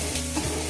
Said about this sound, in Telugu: ఇప్పుడు దీంట్లో 1/2 స్పూన్ అల్లం వెల్లుల్లి పేస్ట్ వేసుకుందాం. దీన్ని పచ్చివాసన పోయే వరకు మగ్గనిద్దాం.